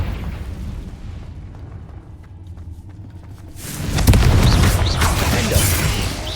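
Confringo fire-blast spell in Hogwarts Legacy, a low rumbling lull that erupts near the four-second mark into a loud, crackling explosive burst with sharp transients, then sustains as a roaring blaze.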